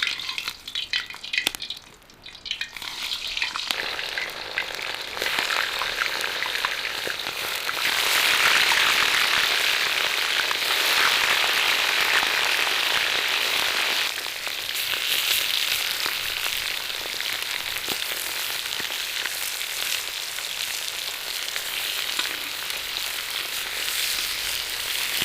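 Meat frying in hot oil for Uzbek plov, a loud, continuous crackling sizzle that swells after a few seconds of stirring and stays dense and steady close by.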